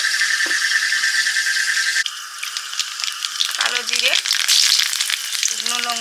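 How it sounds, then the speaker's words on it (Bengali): Magur catfish fries in mustard oil in an outdoor kitchen at night, giving a loud, steady sizzle that crackles on throughout, with brief squeaky scraping sounds near the end. "মাগুর মাছের রান্নাটা করবো সরষের তেল"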